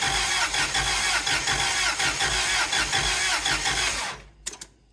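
A Toyota forklift engine cranks loudly and rhythmically at close range, catching briefly and sputtering as it tries to start, then dies away into a few faint knocks.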